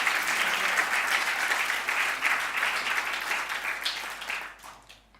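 A church congregation applauds steadily and fairly loudly throughout, a dense wash of many hands clapping that tapers off abruptly at the very end.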